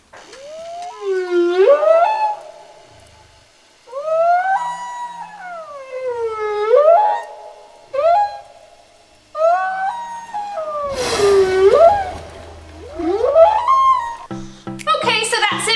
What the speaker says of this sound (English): how do whales communicate? They communicate through song.